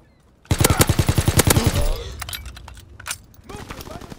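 Rapid automatic gunfire in the World War II shooter Call of Duty: WWII, a burst of close, loud, evenly spaced shots lasting about a second, followed by scattered clinks and softer battle noise.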